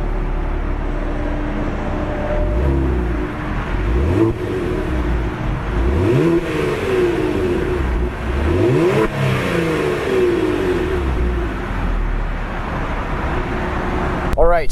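A Kia Stinger GT2 pulls away on a road, its engine revving up through several rising sweeps as it accelerates, heard from inside at a moderate level with steady road and wind noise beneath.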